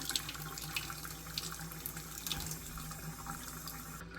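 Steady rush of warm water pouring from a tap, continuous and moderately loud, close by with no voices.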